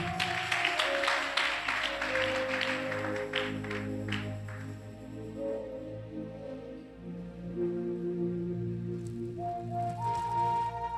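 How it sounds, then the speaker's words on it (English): A church congregation claps in a burst of applause that gradually thins out, with a steady musical hum continuing underneath. "Somebody clap."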